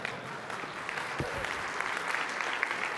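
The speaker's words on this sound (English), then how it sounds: "Oh, an applaud." A conference audience breaks into applause for a presenter during a technical talk on modern Objective-C, a moderate, even wash of clapping that holds steady for a few seconds with no voices over it.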